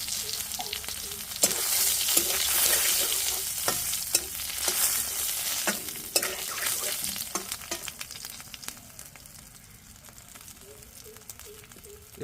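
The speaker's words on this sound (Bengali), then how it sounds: "আমার তেলে ফোড়ন দেওয়ার জন্য দুটো শুকনো লঙ্কা এবং তেজপাতা নিয়েছি। এক টেবিল স্পুনের মতো দিয়েছি আমি কালা জিরা" Dried chillies, bay leaf and kalonji temper in hot oil with a steady crackling sizzle, punctuated by the scrape and clink of a spoon stirring in the pan, close up with no talking.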